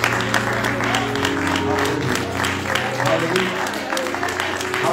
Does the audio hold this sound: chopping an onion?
no